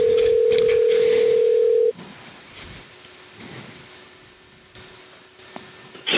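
A telephone dial tone hums steadily and loudly for about two seconds, then cuts off, leaving faint background noise and a few small clicks as the call is placed.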